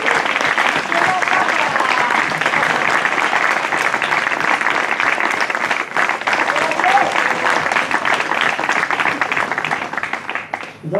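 Sustained, loud applause from a large audience at an Italian memorial event, continuous throughout with only slight swells and dips.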